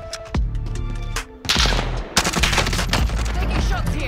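Loud gunfire in the video game Call of Duty: Warzone, with sharp cracks and rapid bursts of automatic shots coming close together over a few seconds.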